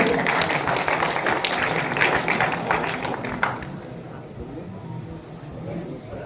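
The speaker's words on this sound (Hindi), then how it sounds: "एक बार जोरदार ताली" Audience at a Hindi poetry gathering gives loud sustained applause while guests are welcomed with bouquets, the dense clapping fading to scattered claps and room noise after a few seconds.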